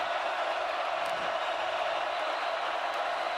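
A sellout stadium crowd of more than 83,000 at an Auburn vs Oklahoma college football game roars in a steady, dense wash of noise that stays constant, with no distinct cheers standing out.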